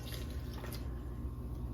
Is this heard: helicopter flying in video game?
no